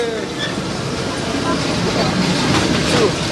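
A tram rolls along a restored city tram line with a steady, loud rumble and faint rail clatter, close by, filling the whole moment without a break.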